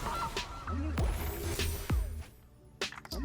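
A goose card in a Magic: The Gathering digital game gives loud cartoonish honks, several in quick succession with short gaps, over game interface sounds.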